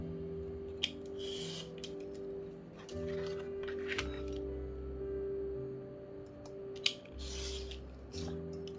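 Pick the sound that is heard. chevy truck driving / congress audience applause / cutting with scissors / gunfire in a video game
cutting with scissors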